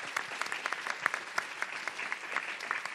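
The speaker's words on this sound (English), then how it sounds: "Round of applause for everyone." Comedy club audience at a live Edinburgh Fringe podcast recording claps steadily, a close, even patter of many hands lasting a few seconds without talk.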